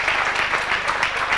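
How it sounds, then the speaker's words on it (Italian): Audience at an evening show applauding for an absent guest, a brisk, loud burst of many hands clapping in a dense, even patter, heard alone without talk. "ma noi l'applauso glielo facciamo lo stesso"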